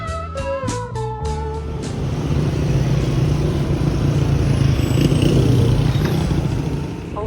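A motorcycle riding on the road in Iran, opening with a few sharp metallic clicks before a steady loud engine drone and wind rumble take over and continue to the end.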